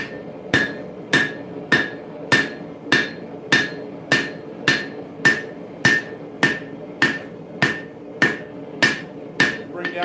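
A hammer strikes hot steel at a steady rhythm, about sixteen sharp ringing blows in ten seconds, while a railroad spike is forged into an axe at the anvil.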